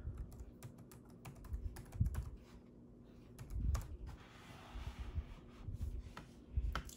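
Keys clatter on a Chromebook keyboard as a Wi-Fi passcode is entered, a soft, close, irregular run of taps in small bursts with brief pauses between them.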